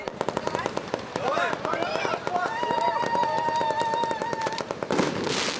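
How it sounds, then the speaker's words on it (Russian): Fireworks crackle and pop in rapid, irregular bursts at an evening graduation celebration, with whistling rockets rising and a voice talking over the noise. "Торжественный вечер закончился красочным фейерверком."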